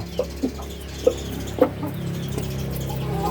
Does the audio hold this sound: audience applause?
no